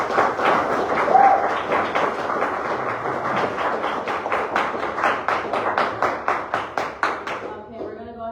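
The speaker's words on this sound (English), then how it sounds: "So can you guys give her another round of applause?" Audience in a school chapel giving a round of applause, a loud burst of many hands that thins into fewer, rhythmic claps before stopping abruptly.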